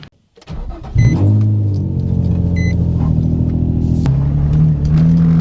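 A car pulls in close by: after a brief quiet gap the engine catches and settles into a loud, steady rumbling idle with a slight rise in pitch partway through, no talking.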